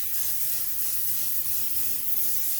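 Cooking spray hissing from a can as a pan is greased for flapjacks, a steady broadband spray close by lasting the whole moment without pause.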